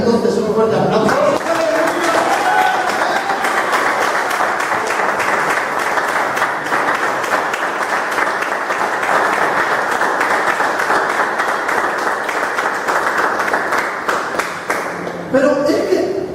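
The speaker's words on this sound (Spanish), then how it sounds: "yo en esta mañana le daría entonces un fuerte aplauso." A church congregation breaks into sustained, dense applause that holds strong for about fifteen seconds, with voices mixed into the clapping before it fades out.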